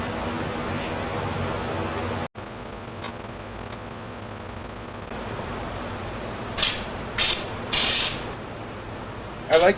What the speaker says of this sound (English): I'm going to spray this thing